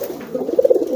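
A male pigeon coos loudly in courtship, a close, throaty run of rapid rolling pulses that builds in strength toward the end of the short burst.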